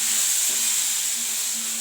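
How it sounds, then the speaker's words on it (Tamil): Onions sautéing in oil for a homemade chutney, giving an even, hissing sizzle that holds steady at close range, with one soft stir and no voices. "எண்ணெயிலே நல்லா அதை வதக்கிட்டு இந்த வெங்காயத்தை போட்டுக்கலாம்"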